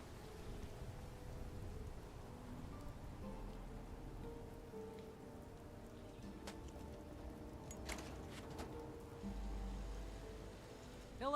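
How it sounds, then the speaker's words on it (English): Rain falling in the video game Fallout 76, a quiet continuous patter on surfaces with soft low rumbles and a few sharp ticks, steady and faint throughout with no talking. "There's something soothing about the rain."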